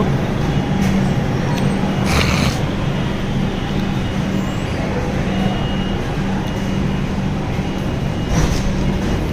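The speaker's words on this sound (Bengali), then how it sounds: "বিশাখাপত্তনম ছেড়ে আমরা বেরিয়ে যাচ্ছি ভাইজাগ স্টেশন। ট্রেনটা ছাড়লো এইমাত্র।" The 22305 SMVB JSME Express pulls out of Visakhapatnam station, heard from on board as a steady, loud rolling rumble with a low mechanical hum and a few brief clatters.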